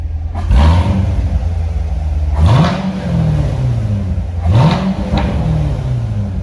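A 2016 Corvette Z51 2LT idles close by, and its engine is blipped three times. Each rev climbs sharply and then falls back to a steady rumble, with no talk over it.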